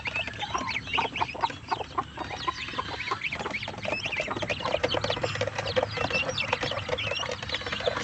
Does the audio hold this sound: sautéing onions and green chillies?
no